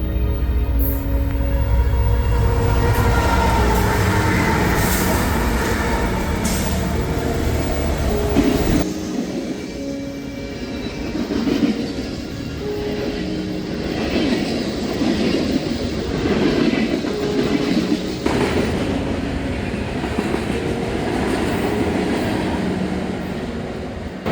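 An eastbound train passes on a shore rail line, loud and close with a heavy rumble and wheel noise that eases after about nine seconds, then continues as steady rolling clatter of passing cars.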